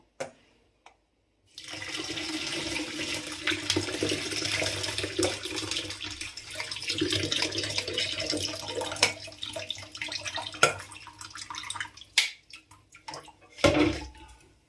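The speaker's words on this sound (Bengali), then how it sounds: "একটু ভালোভাবে বেশি করে জল দিয়ে আমি ছানার যে টক ভাবটা কাটানোর জন্য ভালো করে ধুয়ে নিচ্ছি।" Water pours from a tap to rinse strained chhana curds for a Bengali sweet, a steady close splashing rush lasting several seconds with occasional clinks and drips as it tapers off.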